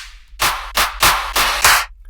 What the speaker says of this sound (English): The next thing we're gonna do is add a clap.